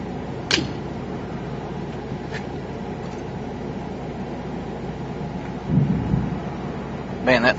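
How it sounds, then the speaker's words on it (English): Loud thunder rolls through severe Missouri weather, a steady rumbling roar with sharper cracks near the start and end, and brief voices in the background. "that thunder is loud."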